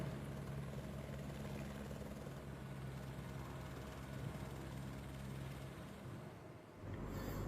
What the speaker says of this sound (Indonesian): Proses evakuasi pun harus dilakukan dengan menggunakan helikopter.